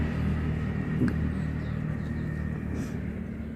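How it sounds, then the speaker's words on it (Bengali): A car passes on a hillside road as a steady low rumble that holds throughout the moment, with no talking. "রাস্তা দিয়ে গাড়ি যাচ্ছিল বলে"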